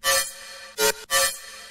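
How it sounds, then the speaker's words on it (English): Wet bass sound with a reverb throw, three loud bursts with tails ringing out between them, played alone without talk. "It's not like a normal reverb throw,"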